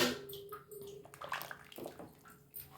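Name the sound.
pouring water into rice in a pot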